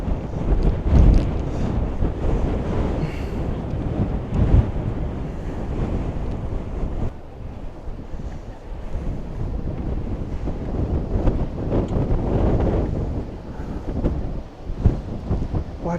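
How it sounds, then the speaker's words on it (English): Strong wind buffets the microphone while cycling near Scheveningen on the Dutch coast, a heavy, continuous low rumble that swells and dips throughout, with no voices. "Ah, it's so windy."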